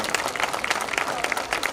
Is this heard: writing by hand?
no